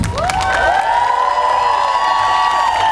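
An outdoor festival crowd at respublicafest in Kamianets-Podilskyi cheers and whoops for the pianist Piano Extremist, loud and close, with sustained shouted voices over scattered clapping.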